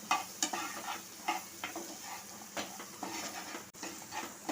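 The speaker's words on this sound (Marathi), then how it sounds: "पाव चमचा आलं पेस्ट घालायचे इथे तुम्ही आल्याचं बारीक तुकडे करून घातले तरी चालेल आता हे परतून घ्यायचं आहे" Spices and ginger paste sautéed in a pan for chana chaat, close scraping stirs repeating every second or so over a soft continuous sizzle, with no talking.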